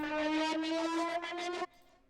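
Pulsating synthesizer riff for a flame weapon in a game, a bright buzzy tone throbbing in quick even pulses for about a second and a half, then cutting off to a faint tail.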